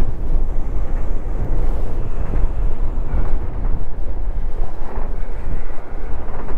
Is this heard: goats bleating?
no